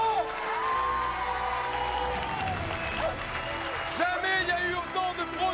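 A large crowd at a building site applauds a record turnout of 163 building professionals, sustained loud clapping with cheering and whoops, some voices mixed in throughout.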